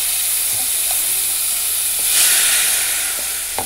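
Cod sautéing in olive oil with chives in a pan, a continuous close hiss and sizzle that swells briefly midway, with a few light clinks and no talking.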